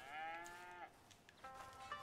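Cattle on a farm in Red Dead Redemption 2 give a drawn-out moo followed by another shorter one, quiet and slightly distant, with no talking over them.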